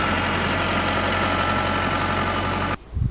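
A safari vehicle idles on the open salt flats of the Little Rann of Kutch in Gujarat, its engine a loud, steady, close low drone that cuts off abruptly near the end.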